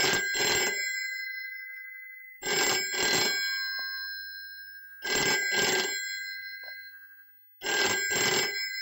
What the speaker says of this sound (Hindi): फोन अटेंड कीजिए, देखिए किसका फोन है।